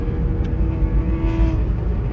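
A motorbike engine revs loudly nearby with a steady roaring drone and a slight rise in pitch, heard alone with no talking.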